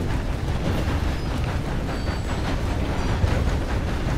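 Train rumbling along in Red Dead Redemption 2, a dense, steady low roar with rattling texture, continuous and fairly loud with no talk.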